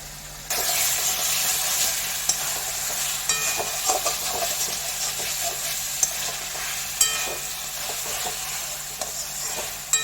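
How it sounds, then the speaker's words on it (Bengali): Mustard chicken frying in oil sizzles and hisses steadily up close, broken by occasional scrapes and clinks as it is stirred in the pan. "এটা আরও একটু শুকনো হবে তেল বের পর্যন্ত নেড়ে দিচ্ছি আমি"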